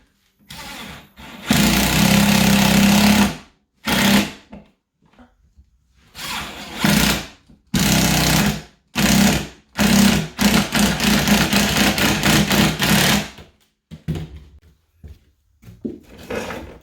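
Screws driven into an electrical box for an electric range receptacle with a power drill, heard as a series of loud, close whirring bursts of varying length separated by brief pauses, no speech.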